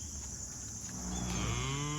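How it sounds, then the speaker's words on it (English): A cow on a farm lets out one long, deep moo that rises and holds, close by and loud, about twenty feet away near a fence line. "So that cow's right there"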